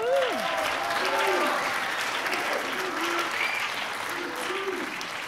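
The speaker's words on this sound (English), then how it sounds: "And let's give another round of applause to Tommy." Steady, full clapping fills the room as a crowd applauds at a college electronic music concert, sustained throughout while a voice talks over the top.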